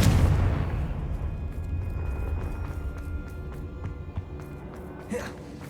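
A Confringo blasting spell explodes in the Hogwarts Legacy video game, with a deep rumbling boom at the start that slowly fades into a low, lingering roar.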